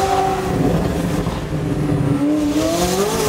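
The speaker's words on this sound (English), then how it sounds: "I have to show you guys how loud this car really is." Loud car engine in a high-end car collection, a steady continuous roar with rising and falling pitch throughout, close and dominant.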